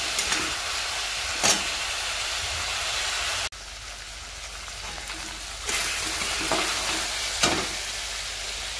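Chicken with poppy seed being stirred and sautéed in a pan, with a steady broad sizzle and hiss, occasional sharp scraping stir strokes, a brief drop in intensity midway, no talking.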